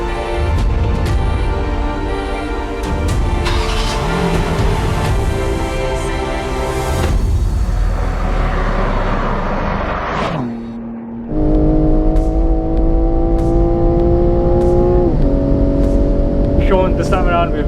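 A BMW M3 Competition, a lighter rear-wheel-drive car with more power, heading out onto a race track: a loud, steady engine drone that drops off briefly, then returns as a strong, even tone.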